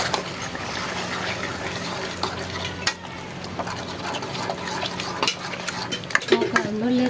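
Chickpeas being stirred in a pan for chole, with steady scraping and clinking of a metal spoon against the cookware over a low sizzle, close and continuous, with a few sharper knocks near the end.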